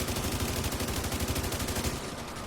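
Rapid automatic gunfire aimed at the Boomer enemy in The Division 2, a dense, steady stream of close, loud shots for about two seconds before cutting off.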